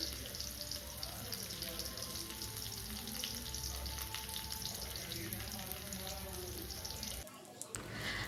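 Small shallots and mustard seeds sizzle steadily in hot coconut oil for a tempering, a continuous crackling fry that cuts off abruptly near the end.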